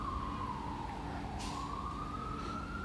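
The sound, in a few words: emergency vehicle sirens outside on the street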